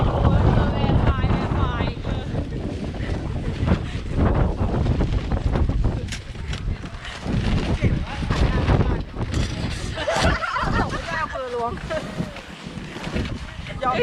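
Strong, cold wind buffets the microphone on a winter outing in Hokkaido, a loud continuous roar with gusts throughout, while people talk over it.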